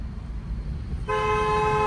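After a second of low road rumble, a car horn sounds close and loud, holding one steady honk to the end.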